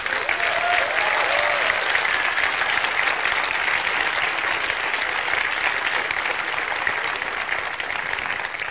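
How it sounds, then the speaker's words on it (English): Steady, loud applause from a film festival audience fills the hall, a dense wash of clapping that holds evenly from start to finish with no talk over it. "will you please give a very warm round of applause to the programmers, scouts, and researchers of the festival"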